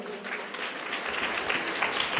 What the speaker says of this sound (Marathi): जोरदार टाळ्या वाजवा आपण सगळेजण एकदा